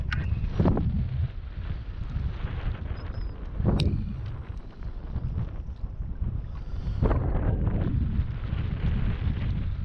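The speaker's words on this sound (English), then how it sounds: "Now the wind's gonna pick back up." Gusty wind buffets and roars over a lake around a fishing boat, rising in three strong surges and holding as a steady rushing bed in between, with no talking.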